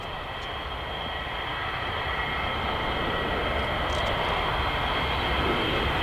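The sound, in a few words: Boeing 787-9 Dreamliner flying demonstration at Farnborough Airshow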